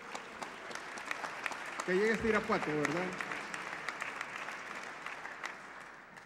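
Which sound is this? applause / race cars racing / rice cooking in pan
applause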